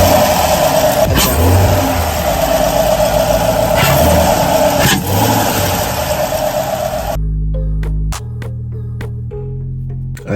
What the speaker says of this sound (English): The intake noise is definitely louder and it sounds really good.